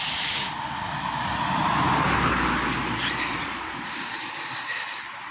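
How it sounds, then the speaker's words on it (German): A car passes along a quiet road on an autumn walk, a broad hissing tire-and-engine swell rising to a peak near the middle and then fading away, with no talk over it. "gerade kommt wieder ein Auto"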